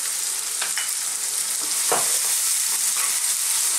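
Garlic ginger paste sizzling and frying in a hot pan for a sweet potato curry, a steady bright hiss with brief stirring scrapes, close and fairly loud, with no voices.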